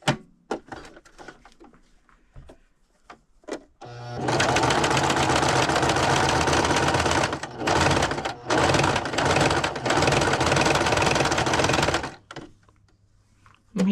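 A sewing machine stitches straps in one long, continuous run of rapid needle chatter with a short dip midway. Quieter handling clicks come before and after.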